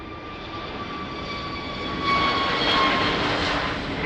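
An airliner engine roars at Lisbon Airport, a broad steady rush with a faint high whine, swelling a little louder midway as the aircraft moves past.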